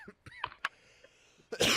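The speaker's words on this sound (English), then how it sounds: "I got a cough" Several short coughs come from one person on a podcast, closely spaced and fairly near, ending in a louder, harsher burst.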